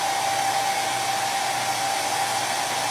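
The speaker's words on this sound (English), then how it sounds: "So I just kind of rub it a little bit as I have the blow dryer." A handheld blow dryer runs steadily at close range for the whole stretch, a loud continuous airy roar with a faint motor whine, used while rubbing and shaping material for a fall topiary craft.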